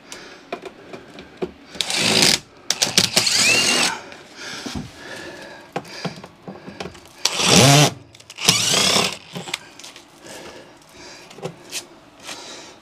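A power drill backs bolt screws out of a dead Goodman HVAC unit during removal, giving several short bursts of whirring with pauses and clanks between them, close by.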